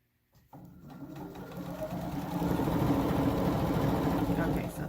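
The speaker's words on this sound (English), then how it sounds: "stitch approximately a 1/4 inch seam" Close and steady, a sewing machine motor whirs up and hums while stitching a quarter-inch seam on a quilt string block, its rapid needle chatter continuous after a brief start and growing slightly louder.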